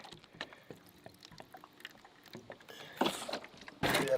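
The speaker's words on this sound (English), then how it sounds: "I'm gonna throw that in that water real quick because that is smoking hot." A smoking hot, deformed bullet dropped into water gives soft scattered clicks and trickles, then a louder hissing, splashing burst near the end, close and without talk.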